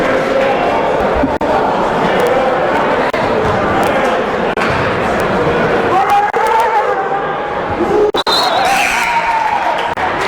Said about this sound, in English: Continued noise for the St. John's crowd